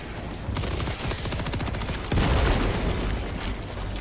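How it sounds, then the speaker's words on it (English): Video game combat with dense, rapid automatic gunfire running throughout, then a loud, close grenade blast about halfway through, followed by more sustained firing. "Rolling grenade."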